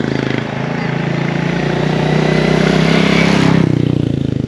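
A 2022 Royal Enfield Classic 350 motorcycle rides along a road, its steady engine drone loud and continuous with wind and road noise, swelling slightly before easing off near the end.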